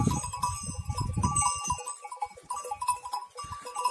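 Young goats let out to graze on a farm, bleating in short repeated calls close by, with a faint bell and other livestock noise behind them.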